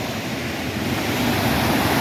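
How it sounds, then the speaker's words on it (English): Little River in the Smoky Mountains flowing as a steady, broadband rush of water, continuous and fairly loud, with no voices. "beautiful little river in Smoky Mountain."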